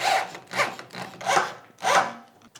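A handsaw cuts through a wooden board for a bed frame, four steady rasping strokes in an even back-and-forth rhythm, close and clear with no talk.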